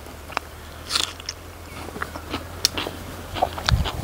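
Bites and crunchy chewing on pepper chicken fry, a leg piece squeezed with lemon and eaten with onion, heard as scattered close crunches and clicks with short pauses between them, with no talk.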